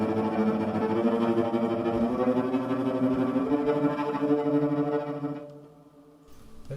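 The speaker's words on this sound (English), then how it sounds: "is an effect called tremolo" A cello plays rapid tremolo on sustained notes, a dense shimmering buzz of repeated bow strokes heard up close, fading out near the end.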